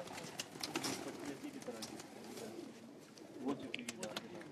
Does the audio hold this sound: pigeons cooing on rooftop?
yes